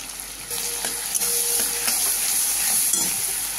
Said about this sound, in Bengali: এটা একটু কষা হলে আমি চাল কুমড়োটা এর মধ্যে ঢেলে দেবো